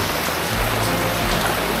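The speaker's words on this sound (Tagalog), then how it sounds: "Lumalakas ang ulan, pumapatak sa kalangitan." Heavy rain falling steadily with a dense, hissing wash across the whole clip and a low rumble underneath, loud and continuous with no voices.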